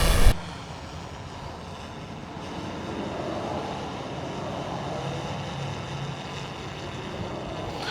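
A DJI drone lifts off on an automated construction-site inspection flight; after a short loud bump at the start, a steady broadband propeller whine holds on and swells slightly as it climbs.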